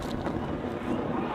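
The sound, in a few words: wind blowing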